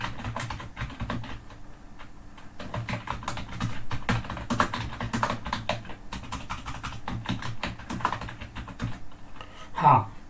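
Rapid keystrokes on a computer keyboard while C++ code is typed, a steady dense clatter of clicks running throughout at close range, with a brief voiced sound near the end.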